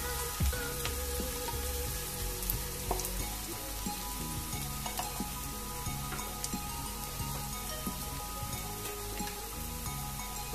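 Chopped green chilies sizzle steadily in hot oil in a pan while an egg and spinach curry is cooked, with a constant crackling fry and occasional small pops and stirring clinks.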